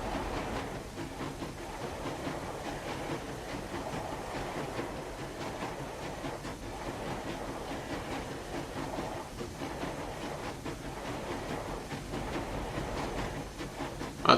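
A video game train climbs a steep slope, giving a steady rumbling rail drone with faint rhythmic clatter and a hissing wash that holds without pause.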